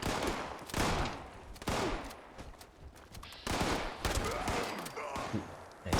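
Gunfire from headshots in the Fallout 76 video game, heard as several loud bursts of shots spread across the clip with quieter game ambience in the gaps.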